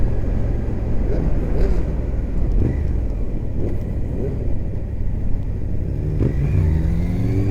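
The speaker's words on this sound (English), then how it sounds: "Sounds quite nice as well, that bike." An old Yamaha motorcycle engine rumbles steadily while riding on a spring road trip, a loud close drone with wind noise and slight rises in revs throughout.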